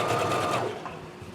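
A sewing machine stitches elastic onto a skirt in a short, close, steady run that stops after about two-thirds of a second, leaving quieter room sound.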